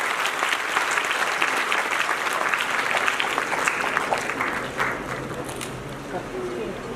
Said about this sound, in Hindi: एक बार जोरदार ताली के नाम पर जाएं